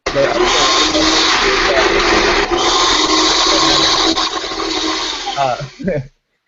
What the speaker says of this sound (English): got a blender going